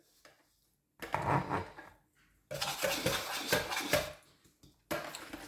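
Yeast, water, olive oil and salt stirred together in a bowl for focaccia dough, heard as two bursts of clinking, scraping utensil-on-bowl sounds separated by brief pauses, close and fairly quiet.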